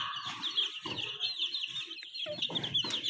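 Chickens cluck close by in a coop while newly hatched golden desi chicks keep up a constant high peeping, the chorus busy and continuous throughout.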